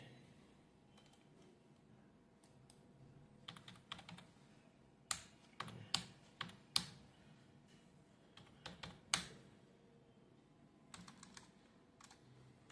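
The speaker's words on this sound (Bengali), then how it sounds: "ইউজার আইডি নাম্বার লেখো" Clicks and taps on a computer keyboard as a user ID is typed, coming in scattered bursts of keystrokes with pauses between, close and fairly quiet over a low room hum.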